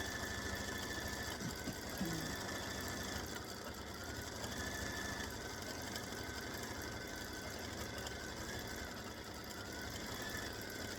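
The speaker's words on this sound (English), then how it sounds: "So I'm just stitching this to make sure that everything stitches the way it's supposed to." A quilting machine stitches an edge-to-edge flower pattern across a quilt, giving a constant, even motor hum with a faint mechanical chatter, close and uninterrupted, with no voices.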